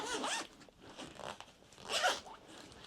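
A zipper on a fabric packing folder being zipped closed in a few quick pulls, close and clear, alone with no talk.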